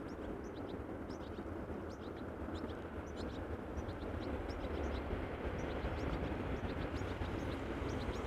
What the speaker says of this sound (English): So this is KLM flight 1917 going to Gdansk in Poland. Embraer 190, 13 years old,